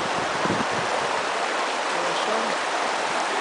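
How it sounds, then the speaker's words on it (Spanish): A strong river current rushes beneath an iron bridge near Tilcara, giving a steady, close broadband roar of flowing water with no pauses and faint voices in the background. "El río tiene una correntada bastante importante y desemboca en aquel sector."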